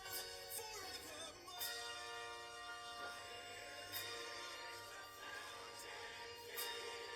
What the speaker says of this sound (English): The church bells were a nice touch.